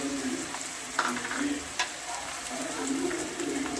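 Crushed garlic and green chillies sauté in hot oil in a pan, giving a steady close sizzle with a couple of sharp clinks as a spoon stirs them.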